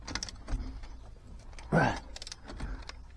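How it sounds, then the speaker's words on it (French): Car wheel nuts being broken loose with a wrench while the car still rests on the ground in a garage: a short, loud grinding burst mid-clip, with light metallic clinks and handling noises before and after. "Je desserre mes roues tant que la voiture est au sol."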